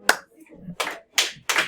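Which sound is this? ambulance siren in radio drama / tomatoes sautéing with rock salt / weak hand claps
weak hand claps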